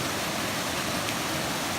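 A waterfall roars as a broad, steady wash of white noise, loud and close, with no break and no talking.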